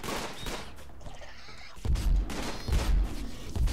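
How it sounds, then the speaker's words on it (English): Video-game gunfire from a group fight, with a burst of rapid shots and heavy thumps building toward the end. "everyone start shooting."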